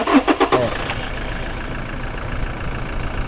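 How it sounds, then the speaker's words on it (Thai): A 2018 Toyota Fortuner 2.8 diesel turbo engine, code 1GD, cranks with a few quick starter pulses, catches, and settles into a steady, rumbling idle close by. "อยากฟังเสียงเครื่องยนต์ด้วย นะครับเครื่องนิ่มเครื่องดี"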